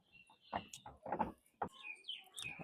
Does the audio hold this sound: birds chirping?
yes